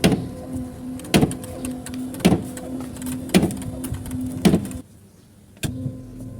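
A car wiper motor runs on test, whirring steadily with a sharp clunk at each sweep reversal, about once a second. It stops briefly, then clunks and starts again, close and clear.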